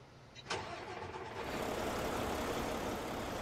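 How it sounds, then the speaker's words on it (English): A Mack truck engine in a video game cranks with a sharp burst, then settles into a steady, even idle rumble. "Let's try this Mack engine."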